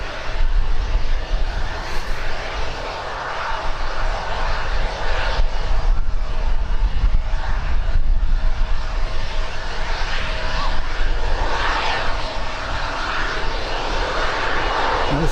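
An Airbus A321 jet airliner roars loudly and continuously at Birmingham Airport, a broad engine rumble that rises and falls slightly as it passes close by.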